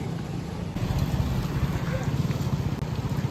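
Light drizzling rain falls outdoors near a body of water, a dense, even wash of noise with a low rumble underneath that continues without a break.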